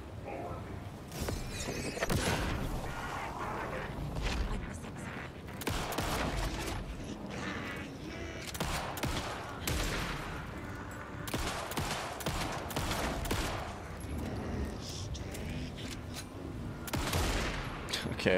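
Dense, sustained video-game gunfire with bursts of bullets, rapid automatic volleys and scattered shots rattling loudly throughout, with occasional muffled speech beneath.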